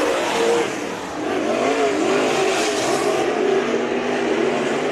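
Race cars roaring through a heat race at Bakersfield Speedway, a dense continuous engine drone with shifting revving pitch, loud and unbroken, with no talk over it.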